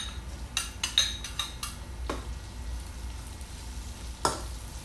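Chopped onion sautés in a pan with garlic and ginger for a stingray dish cooked in coconut milk. A soft, steady sizzle runs under a few sharp clicks and scrapes of a utensil against the pan. No one speaks.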